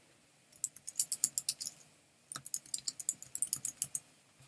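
Two quick bursts of typing on a computer keyboard: crisp, close clicking keystrokes in rapid runs, with a short pause between them and no voices.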